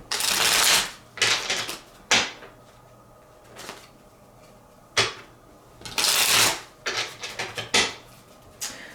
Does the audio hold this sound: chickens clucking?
no